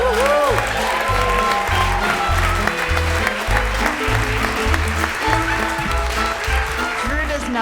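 Audience applause and cheering for a comedian taking the stage at a stand-up comedy show, a loud, steady wash of clapping from a crowd that fills the whole stretch.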